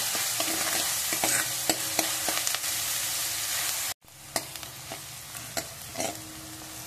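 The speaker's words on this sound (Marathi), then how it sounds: "इथे आपला कांदा चांगला परततोय" Onions fry in a pan for a restaurant-style kaju paneer masala, with a steady sizzle and frequent scraping taps of a spatula stirring them. The sound cuts out briefly midway and then resumes.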